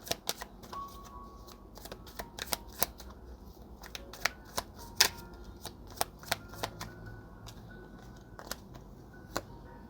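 Tarot cards being shuffled by hand, a steady run of crisp riffling clicks and soft slaps close up, with a faint room hum beneath and no talking.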